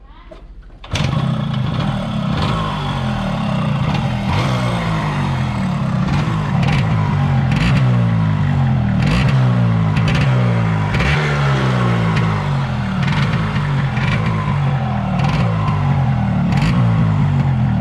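A Yamaha RX135 motorcycle fitted with an RX100 exhaust muffler in place of its catalytic muffler starts about a second in, then runs steadily, loud and close, with a throbbing two-stroke idle throughout.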